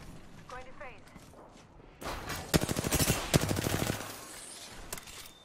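Rapid automatic gunfire from a firefight in Apex Legends, with a burst of quick shots in the middle of the clip following a quieter stretch with a faint voice.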